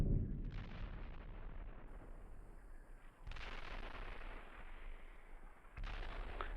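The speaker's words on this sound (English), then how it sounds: "we're taking fire here." Gunfire in the tank combat simulator Steel Beasts Pro PE: three heavy, booming shots spaced a few seconds apart, each with a long rumbling decay.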